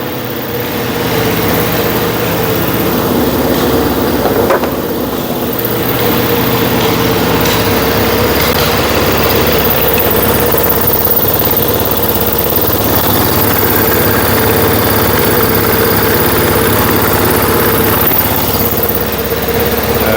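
A Yamaha XS1B motorcycle engine idles steadily for about twenty seconds, loud and close, with an even low rumble and no talk.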